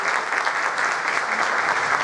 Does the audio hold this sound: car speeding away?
no